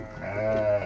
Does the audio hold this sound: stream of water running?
no